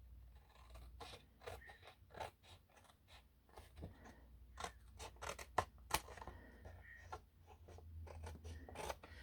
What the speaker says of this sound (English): I'm not very good at cutting straight.